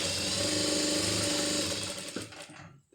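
A sewing machine stitches cloth in tailoring work, whirring steadily and loudly at high speed for about two seconds before slowing and winding down to silence.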